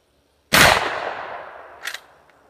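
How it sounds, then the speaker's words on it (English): An 1887 lever-action shotgun fires a single loud buckshot blast into drywall, its echo decaying over about a second, followed by a brief metallic clack. "trying buckshot out of the 1887 shotgun against drywall"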